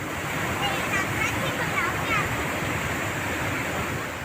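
The Karjan river in Bharuch, Gujarat, swollen into a flood after torrential rain, makes a loud, continuous rushing roar of fast-moving water that stays steady throughout.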